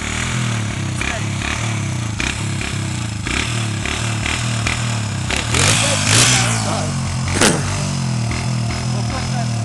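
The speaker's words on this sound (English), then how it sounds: "Let out the clutch and give it gas." A dirt bike engine idles and revs as a rider learns the clutch, a loud steady engine drone with throttle surges and mechanical clatter, and voices faintly underneath.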